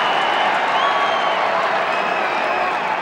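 A Hobart crowd at a 1987 lacrosse game against Syracuse, a steady wash of clapping and cheering that holds loud and even throughout.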